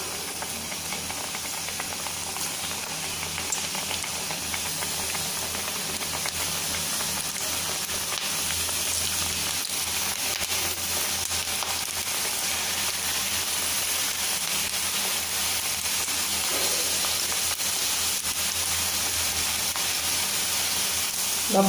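Gram flour pakoda batter poured into hot oil fries with a steady, dense hiss and sizzle, close and continuous, with no talking.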